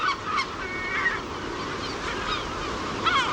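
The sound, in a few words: gulls calling at nesting colony, Cíes Islands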